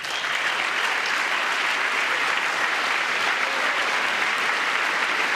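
Members of Congress applaud during a presidential address to a joint session, a dense, steady wall of clapping filling the chamber for the whole stretch without letup.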